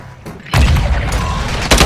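A grenade blast in the Warzone Mobile battle royale game begins with a sudden heavy boom, then a dense rumbling roar and a second burst near the end, loud and close.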